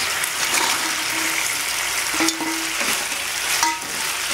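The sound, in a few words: adding fried baby corn into sauce in pan, stirring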